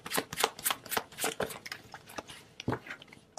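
Tarot cards being shuffled and drawn, a quick string of crisp riffling flicks in a rapid, uneven rhythm, close and clear, with no speech over them.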